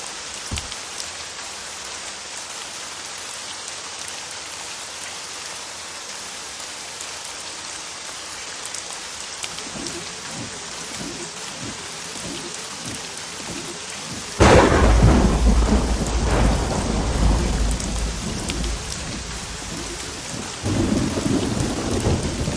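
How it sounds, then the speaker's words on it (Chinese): Heavy rain pours steadily while thunder rumbles, starting softer and breaking into a loud, close crash partway through, then continuing as a dense downpour with no voices. "下这么大雨"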